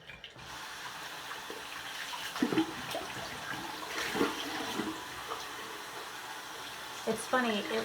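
A bathroom tap runs at full hot setting in Florida, the water pouring steadily and fairly quietly, with a few louder splashes and clunks and faint talking in the background.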